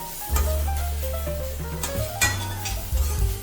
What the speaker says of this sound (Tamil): அடி பிடிக்காம இருக்கிறதுக்காக அடிக்கடி இதை நம்ம நல்லா கலந்து கொடுத்துக்கிட்டே இருக்கணும்